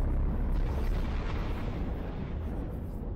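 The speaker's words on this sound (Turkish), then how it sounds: "Bir patlama gerçekleşti." A deep, sustained explosion rumble in the Skibidi Wars animation, loud and dense throughout with a booming low roar and no talk over it.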